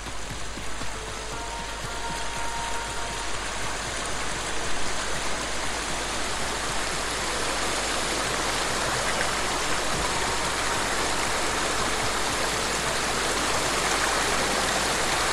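Heavy water rushes steadily at Springfall Shrine, a water sanctuary in Ghost of Tsushima, making a constant loud roar with no pauses and no voices.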